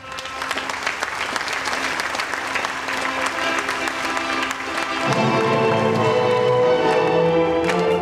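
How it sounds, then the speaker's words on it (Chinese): Guests at a wedding banquet clap steadily to welcome the bride and groom, a dense continuous applause that gives way to festive music with the clapping still running underneath. "让我们掌声有请新郎新娘"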